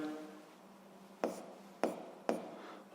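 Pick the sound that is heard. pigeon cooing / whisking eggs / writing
writing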